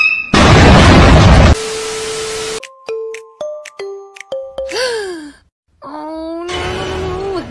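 A cartoon explosion burst, loud and broadband for about a second, followed by sliding tones, pops and moaning vocal sounds, with a short silence before another loud noisy burst.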